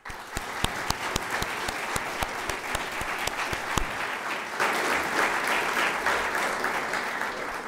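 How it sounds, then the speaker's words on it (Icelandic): Audience applause at a graduation ceremony for the 2008 class at Grundaskóli, loud clapping from a crowd that starts with sharp distinct claps and swells into dense sustained applause, with no talking. "ég held að sé við hæfi að gefa Margréti gott klapp"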